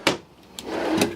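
A full-extension silverware drawer in the kitchen of a 2019 Coachmen Catalina 19 TH toy hauler travel trailer slides and bumps shut, with a sharp knock at the start, a softer clack midway and another thud near the end.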